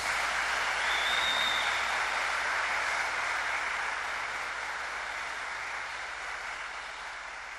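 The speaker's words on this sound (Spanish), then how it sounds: "Recibámoslos con un fuerte aplauso." Cathedral audience giving a strong round of applause to welcome a music ensemble at a Christmas concert, a broad, reverberant wash of clapping that stays steady and fades slightly toward the end.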